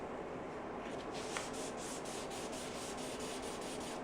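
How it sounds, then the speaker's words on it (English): Clear coat on a 1971 Honda CB350 is wet sanded by hand with P1000 sandpaper, a soft continuous hiss of rubbing in steady up-and-down strokes, close and quiet. "we're gonna begin with the P1000 wet sand, and I'm gonna go up and down for this one"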